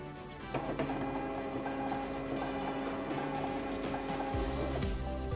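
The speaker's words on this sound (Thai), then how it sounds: "จะพิมพ์สัก5ชุดแล้วกันนะครับ" A Zebra thermal transfer barcode printer runs a ribbon while printing labels, giving a steady motorized whir with a faint tonal hum for several seconds and a short lower-pitched mechanical shift near the end.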